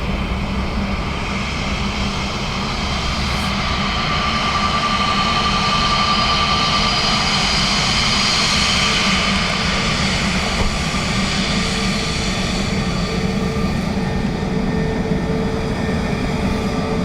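Airbus A321neo jet at Dublin Airport, a loud, steady engine roar that holds and swells slightly across the whole stretch, heard from a rooftop with no talking.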